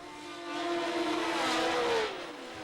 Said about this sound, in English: the field of 16 cars howled away from the start